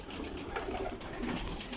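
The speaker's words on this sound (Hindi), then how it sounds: "यहाँ पे टैडी कबूतर है।" Teddy pigeons in a loft, a steady low murmur of cooing and soft bird calls at moderate distance over a constant background hum.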